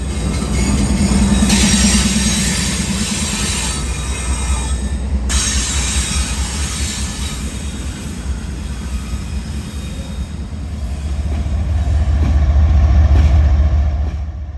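A long freight train rolls past on a busy main line in Chattanooga, Tennessee, a loud, continuous rumble of wheels and cars with rising and falling swells and a brief squeal.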